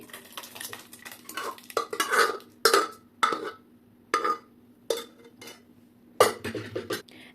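A metal spoon stirs bisi bele bath masala into cooked foxtail millet, vegetables and dal in a pot, giving a series of distinct scraping clinks in an uneven rhythm over a faint steady hum.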